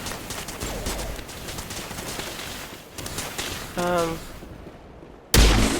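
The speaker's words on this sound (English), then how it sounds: "Manova is under coordinated crossfire." Gunfire crosses the field in a sci-fi shooter, with dense layered bursts that roll on steadily and then a sharp, loud blast near the end.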